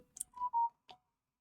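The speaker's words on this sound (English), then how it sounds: "My phone went off." A phone goes off with a brief electronic alert: a quick high chirp, two steady mid-pitched tones in a row, then a short final blip, close and fairly quiet, no talking.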